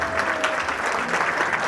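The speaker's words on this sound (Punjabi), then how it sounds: "ਖੜੇ ਹੋ ਕੇ ਤੁਹਾਨੂੰ ਇਹਨਾਂ ਵਾਸਤੇ ਜ਼ੋਰਦਾਰ ਤਾੜੀਆਂ ਕਰਨਾ" Sustained, dense applause from an audience at a Sikh community Lohri celebration, steady and fairly loud throughout with no pauses.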